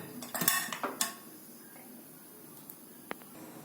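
Metal clatters and clanks ring out in a quick cluster as a lid goes onto a pot of boiling chicken momos, then a few light ticks follow in near quiet.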